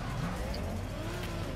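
Subaru BRZ drift car in the PC racing game Torque Drift, engine droning steadily at fairly high revs with a faint tire hiss, quiet and continuous with no talk.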